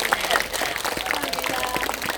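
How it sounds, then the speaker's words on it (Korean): Audience applause at a concert held at Gilsangsa temple, a dense, steady patter of many hands clapping that holds at a fairly even level throughout, with no music over it. "감사였으니 박수도 좋아요."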